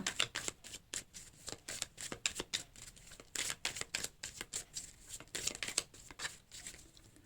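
Oracle cards being shuffled for a reading, a rapid series of soft papery riffles and slaps in quick irregular bursts, close and quiet, with no talking.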